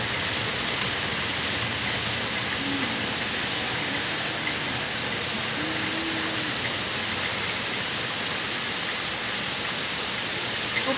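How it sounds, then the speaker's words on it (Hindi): Heavy rain pours steadily, a dense continuous hiss of falling water with no letup, close and fairly loud, with no voices over it. "देखिए इतना जोर जोर से बारिश आ रहा है।"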